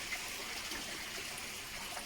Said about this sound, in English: so the water went inside the pump, and then I turned the pump on